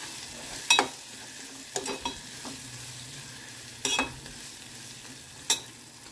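Turmeric fries in a little oil in a pan, a soft steady sizzle broken by a few sharp scrapes and clinks of a spoon stirring, close up and with no voices.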